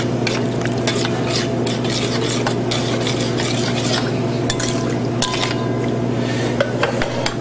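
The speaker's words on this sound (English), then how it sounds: "you want to see that sizzle like that. That helps the garlic and the cumin really come up." Garlic and cumin sizzle in hot oil for a mojo sauce, a loud, steady frying crackle up close with stirring and scraping sounds over it throughout.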